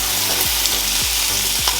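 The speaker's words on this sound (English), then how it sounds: "So let's get to cooking this bacon, y'all. My bacon, putting it in the pan." Bacon sizzles loudly and steadily in a hot pan, a dense close crackle with a few soft scrapes or shifts of the strips.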